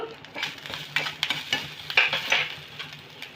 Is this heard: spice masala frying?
yes